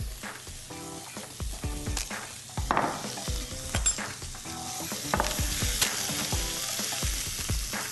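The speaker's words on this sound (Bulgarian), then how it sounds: "Разбърквам." Lamb and potatoes with salt stirred in a sač pan, a close sizzle of frying broken by repeated metallic scrapes and clinks of the utensil against the pan in an uneven rhythm.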